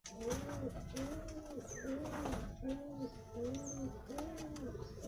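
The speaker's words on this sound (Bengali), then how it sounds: "আর এই হচ্ছে ছেলে পায়রা।" A caged male Giribaz pigeon coos close and clearly in a regular repeating pattern of rising and falling calls, about once a second, with softer cooing and light rustling around it indoors.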